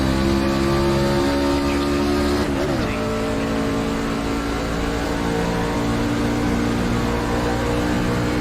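Race truck in iRacing's ANZCAR Truck Series at Atlanta spinning its rear tyres, a loud continuous engine roar with a brief warbling surge as the wheels break loose, staying steady and close throughout.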